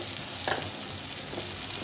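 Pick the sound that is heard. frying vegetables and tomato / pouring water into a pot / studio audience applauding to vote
frying vegetables and tomato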